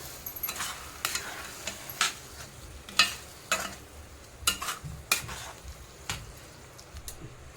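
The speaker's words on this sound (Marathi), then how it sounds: "आता आपल्याला हे बेसन पीठ काढून टाकायचं आहे चांगलं मिक्स करायचं" Gram flour being stirred into sautéed coriander in a pan, heard as repeated spoon scrapes and knocks in a loose rhythm over a soft sizzle, with no voices.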